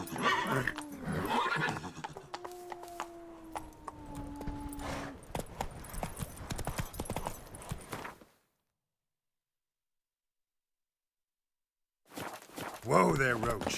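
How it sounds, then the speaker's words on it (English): A horse in The Witcher 3 video game gives a whinny and snorts amid clip-clopping hooves and rustling movement, then goes silent for several seconds before more neighing and hoof sounds return up close. "Whoa there, Roach"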